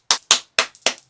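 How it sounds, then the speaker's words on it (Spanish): A few sharp hand claps ring out at a birthday tribute to the singer Dimash, five loud, close, evenly spaced slaps with brief silences between and no voices. "Oigan, aplausos."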